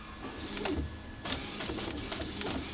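An Epson printer with a print carriage that jams prints, giving close, steady mechanical whirring broken by rhythmic clicks and shuttling strokes as the carriage moves.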